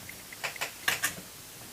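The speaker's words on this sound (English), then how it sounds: "just pop the cooler on. Let's see if it snaps into position." A computer CPU cooler being pressed onto its mount, giving a few sharp plastic clicks and snaps spaced through a quiet moment, fairly close and moderately loud.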